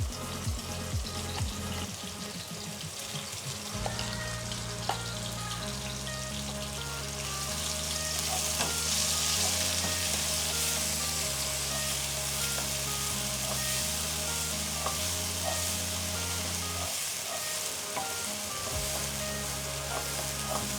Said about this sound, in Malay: Sekarang kita masukkan bahan yang kita tumis ya.